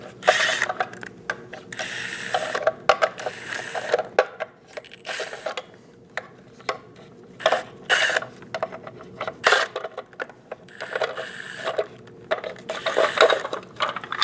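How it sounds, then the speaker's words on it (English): A ratchet wrench with a 21mm socket works the lug caps off a rear wheel of a 2001-2006 Chevrolet Silverado 2500 HD, giving repeated bursts of close, crisp clicking separated by short pauses. "Using a 21mm socket, remove all of the lug caps for the center cap."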